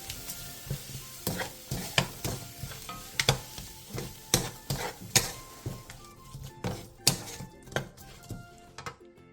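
Cucumber stir-fry being finished in a pan with perilla oil, green onion, red pepper and sesame, a steady sizzle under sharp, repeated scraping and tossing strokes of a spatula, close and lively throughout.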